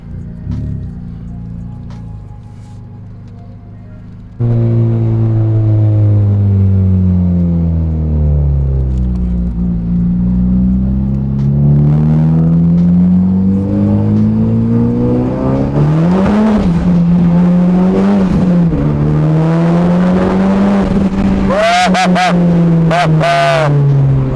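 A car fitted with a Type-R engine is out on a test drive to check for misfires. A loud engine drone rises and falls through the gears and revs, with pitch sweeping up and down under steady road rumble.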